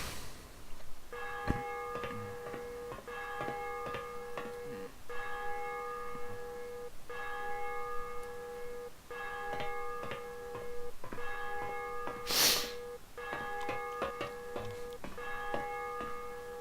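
A church bell tolls repeatedly in the video game DayZ, steady evenly spaced strikes ringing out over several seconds with a brief loud burst partway through, no talking.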